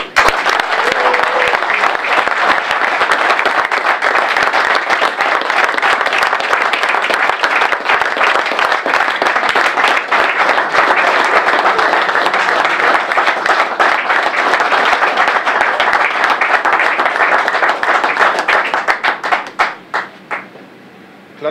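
Sustained audience applause filling a concert hall at a charity event, dense steady clapping from a large crowd for about twenty seconds before tapering off into scattered claps.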